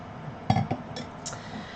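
A glass of kombucha clinks twice in quick succession, faint and close, followed by a couple of softer light taps over quiet room noise.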